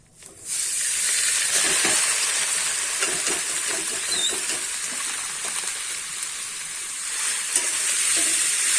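Washed, chopped banana stem goes into hot oil with fried spices and sizzles loudly and continuously, a close, bright hiss with faint stirring scrapes throughout and no voices.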